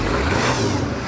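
A flooded 1978 truck engine revs briefly and loudly, a rough broadband roar lasting about a second with no talk over it.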